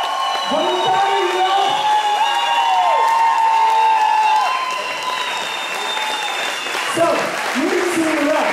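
Festival audience applauding the volunteers, a continuous roar of clapping with cheers and whoops, heard under loud voices and sustained tones throughout.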